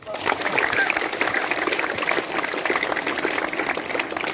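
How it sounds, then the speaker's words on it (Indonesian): A school assembly audience claps for the school principal, a loud, brisk burst of many hands that stays steady throughout, with some voices mingled in the crowd. "Tepuk tangan buat kepala."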